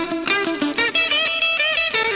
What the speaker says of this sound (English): We've got the lead solo, and that is actually the same strat.